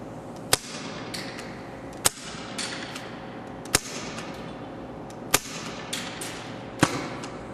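An HFC M712 airsoft pistol running on HPA air fires five sharp, evenly spaced pops about one and a half seconds apart, each crisp and close over a steady background hiss.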